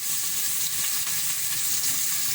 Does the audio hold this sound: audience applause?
no